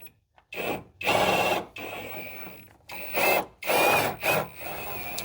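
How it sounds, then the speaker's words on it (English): Lower control arm bolts are removed during a 3.5-inch Iron Rock Off Road lift kit install on a Jeep, with a tool producing several loud, close, harsh bursts of about a second each, separated by short pauses. "I'm gonna go ahead and remove the bolts for the lower control arm"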